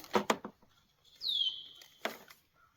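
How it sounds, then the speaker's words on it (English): A single bright bird chirp rises out of near silence, framed by a few short taps and rustles before and after. "I do like hearing the birds."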